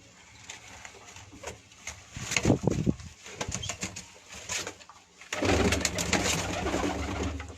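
Batera pigeons coo softly nearby on a rooftop while wings flap in quick bursts, with a rustling flurry of flapping near the end.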